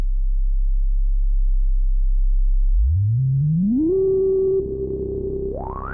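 A Kawai SX-240 analog synthesizer plays a bass patch with the filter resonance turned nearly fully up: a deep steady tone that swoops upward into a whistling, resonant sweep, then holds and rises again, with no voices.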